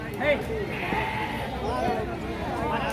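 Sheep bleating at the Gangadhara livestock market in Telangana, a few close bleats rising above a continuous babble of many people talking nearby.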